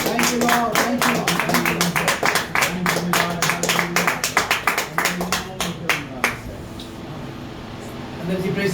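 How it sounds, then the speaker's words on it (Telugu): A church congregation at a deliverance service in Suryapet claps loudly and rhythmically for God, with dense, fast hand claps that thin out and stop near the end, while voices speak over them. "గట్టిగా చప్పట్లు కొడదాం దేవుడికి."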